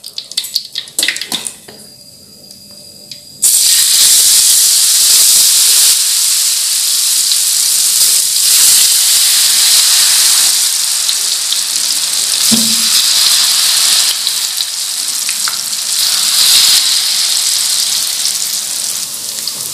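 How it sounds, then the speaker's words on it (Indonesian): Loud, steady sizzling and crackling of battered tempeh (tempe mendoan) frying in hot oil fills the clip, following a brief clatter at the start. "Kita akan menggoreng yang ini diparuh ya, 1/2."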